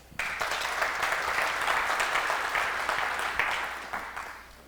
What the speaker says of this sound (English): So give him a round of applause, please.